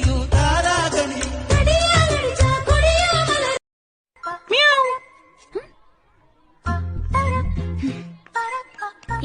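A person imitates a cat's meow, giving a few short high mewing calls between stretches of loud music with singing, the imitation brief and close.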